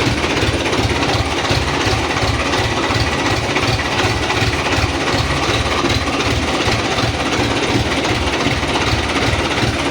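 A tractor started cold in winter runs at idle, a loud, close, evenly throbbing diesel chug that holds the same steady rhythm throughout, with no voices.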